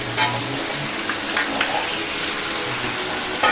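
Jackfruit kofta curry sizzling steadily in a pan, a dense, continuous frying hiss with a few sharp clinks and scrapes from stirring scattered through it.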